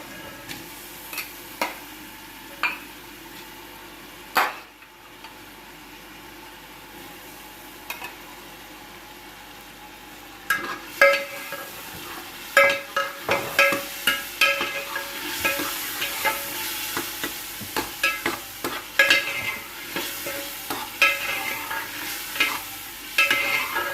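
Boiled chickpeas are stirred and fried in a pot for street-style chana pulao, giving a steady sizzle with scraping stir strokes that grow busier and louder in the second half, no voices.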